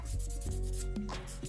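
A guzheng fingernail is rubbed against a nail file strip to round its edge, giving brief, close scratchy strokes in a quick back-and-forth rhythm.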